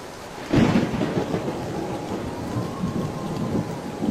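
A cartoon thunderstorm opens with a loud rumbling thunderclap, then heavy rain pours steadily and evenly, with a second softer roll of thunder later and no voices.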